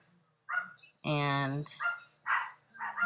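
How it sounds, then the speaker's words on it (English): Dogs bark late at night in a home, one sharp harmonic bark standing out among shorter yips, fairly close but behind someone talking. "Excuse the dogs in the background. I don't know why they're barking."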